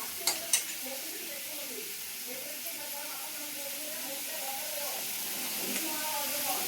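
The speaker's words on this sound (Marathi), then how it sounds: "कांदा टोमॅटो कढीपत्ता एकत्र भाजून घ्यायचं." Onion, tomato and curry leaves fry together in a pan for a home-style vegetable dish, a soft steady sizzle with a couple of sharp utensil knocks at the start while a person talks over it.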